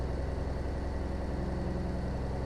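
A Cummins 444 truck engine idles in American Truck Simulator, a steady low diesel rumble with even pulsing, close and continuous with no voices.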